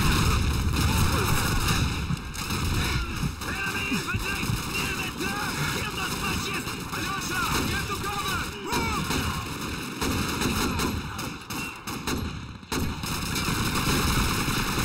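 Gunfire from a machine gun and other weapons in the Call of Duty 2 video game, dense and continuous bursts with loud blasts throughout, a voice speaking intermittently over the battle.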